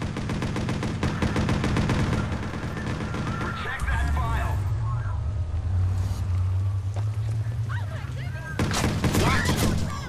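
Gunshots in Watch Dogs rattle off in rapid bursts, a fast clatter at the start, a lull with a low hum, then another volley at the end, while someone talks over them.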